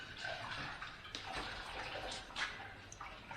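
Water splashes and swirls as a pan is rinsed to wash out lemon rind and pips, in irregular soft sloshing bursts with a few drips, faint and close, without speech.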